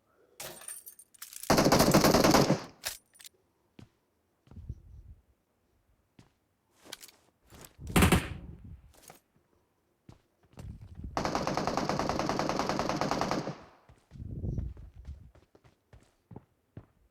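Machine gun fire in a video game comes in several sustained bursts of rapid shots, separated by short single cracks and quieter gaps, loud and close with no talk over it.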